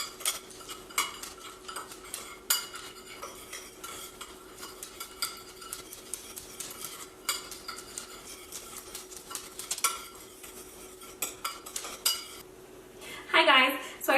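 A spoon stirs a thick sugar scrub for a unicorn-themed batch, with repeated scraping and clinking against the bowl in an irregular rhythm, close and moderately loud, with a brief sharper clatter near the end.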